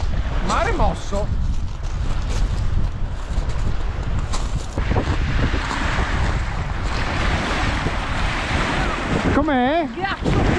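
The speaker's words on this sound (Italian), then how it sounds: "Mare mosso." Rough, choppy lake water and gusting wind make a steady, loud wash of noise with heavy wind buffeting on the microphone, and a voice speaks briefly near the start and again near the end.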